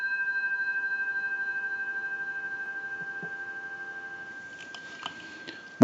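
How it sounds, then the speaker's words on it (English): Dial tone from a British desk telephone hums as a steady, fairly quiet continuous tone, with a few soft clicks and knocks near the end and a sharp click at the close. "We'll go ahead and give you some dial tone."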